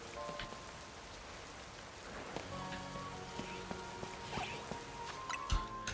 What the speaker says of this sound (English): as long as it's raining